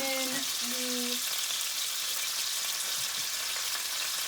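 Venison browns in a pan for chili, giving a steady close sizzle and crackle with occasional light stirring clicks; a brief tonal hum sounds near the start.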